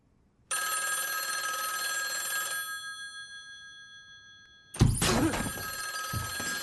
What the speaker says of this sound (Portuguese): Toca o telefone, é a hora que você dá aquele pulo